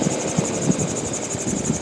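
A gyrocopter engine throttled back to about 3,000 RPM drones steadily with a pulsing beat and a high whine, loud and continuous, during a zero-airspeed descent.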